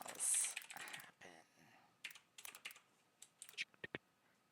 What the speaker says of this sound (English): It's more fun just typing it up